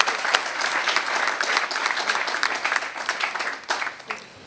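An audience at an open-day event for a training centre claps for the Lokossa commune authorities, a dense, loud burst of applause that holds steady before tapering off at the end.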